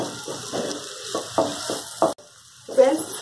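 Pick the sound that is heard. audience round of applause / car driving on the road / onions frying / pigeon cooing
onions frying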